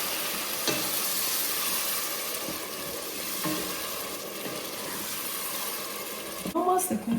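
Blended pepper and onion hit hot oil rendered with fat from salted Tooloo beef for traditional rural African jollof rice, giving a steady close sizzle and hiss that runs throughout, ending with a few clinks of a utensil.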